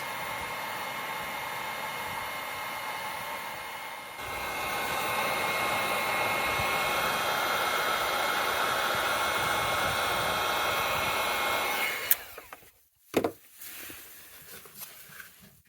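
A hair dryer or heat gun blows a steady, loud broadband whoosh to soften a HotSpring spa heater part, with a slight lift in level partway, then cuts off abruptly into a few short clunks and handling noises.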